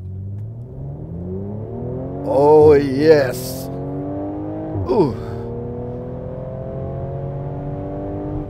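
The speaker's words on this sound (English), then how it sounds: "I just put this car in Sport Plus mode and now I'm accelerating." A 2015 Mercedes-Benz C450 AMG in Sport Plus mode accelerates hard from inside the cabin, its engine note climbing steadily through gears with a brief shift dip midway, while the driver exclaims excitedly over the rising drone.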